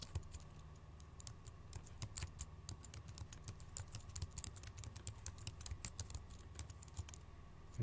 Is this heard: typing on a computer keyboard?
yes